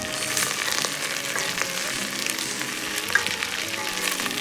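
Chopped onions fry in hot oil in a pan for green mango sambar, giving a loud, steady, continuous sizzle with occasional faint stirring ticks close by.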